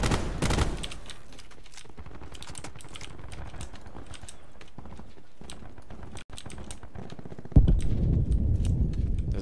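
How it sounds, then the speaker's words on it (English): A gun fires in Call of Duty Black Ops 4 amid a dense, steady patter of sharp game clicks and taps, with louder broadband bursts near the start and the end. "It just shot one bullet again!"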